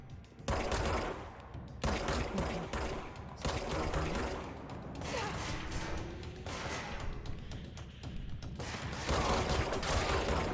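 Bursts of gunfire ring out while shooting in the video game Control, rapid volleys and heavy thuds repeating loudly for the whole stretch with almost no pauses between them.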